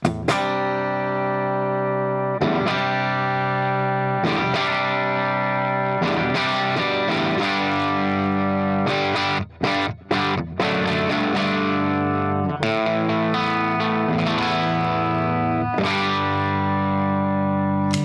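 A heavily overdriven electric guitar through a Guitar Slinger Products RB1011 MKII booster pedal plays loud, sustained chords with a thick, saturated tone, pausing briefly near the middle before continuing.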